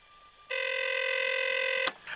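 A single steady telephone tone, like a dial or ring tone, sounds at the opening of a 911 call in a one-man stage show about true crime. It lasts just over a second, loud and clear, then cuts off with a click.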